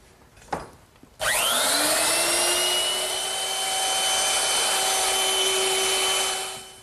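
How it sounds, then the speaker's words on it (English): Woodworking router fitted with a 1/4-inch bit, easing the edges of a wooden settle: a near, loud motor whine spins up after a couple of faint knocks, holds steady with a slight dip as it cuts, then winds down at the end. "I'm just going to use my router. And I've set it up with a 1/4-inch bit"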